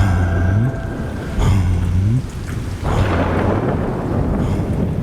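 Heavy rain pours steadily while loud thunder rumbles roll in, several booming claps spaced a second or so apart, close and dominant with no talking.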